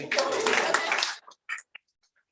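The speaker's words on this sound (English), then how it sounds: "applause" A comedy club audience gives a short burst of applause that cuts off abruptly after about a second, followed by a few faint scattered sounds.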